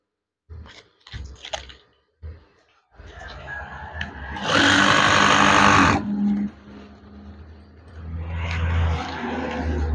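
A sewing machine stitches a curtain hem: short bursts of whirring, then a louder sustained run of mechanical buzzing lasting a couple of seconds, followed by quieter handling noises and another rising run.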